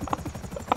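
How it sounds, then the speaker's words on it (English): A helicopter in a video game gives off rapid rhythmic rotor thumps, a quick pulsing chop repeating several times within under a second, fairly close and loud. "I wonder if I can get into the helicopter."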